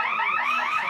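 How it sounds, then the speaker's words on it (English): A fire alarm on a film production set during a yearly drill wails steadily with overlapping rising tones, loud and continuous throughout, with no voices over it. "and now there's a fire alarm."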